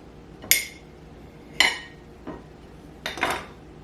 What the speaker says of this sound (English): Now let's slice this egg and take a look at the yolk.